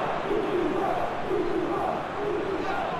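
A dense stadium crowd in a PS4 football game, Sporting CP against Besiktas in the Champions League, roars and chants continuously with rising swells of cheering, loud and close throughout.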